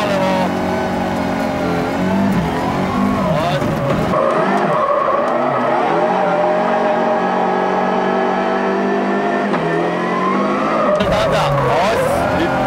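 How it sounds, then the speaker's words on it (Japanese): A Mitsubishi Lancer rally car driven hard by Tommi Mäkinen, engine roaring loud and close with sustained tire skidding and squeal, the revs rising and falling through the run while a passenger rides along. "ランサー。 もちろんドライバーは無敵のトミー・マキネン"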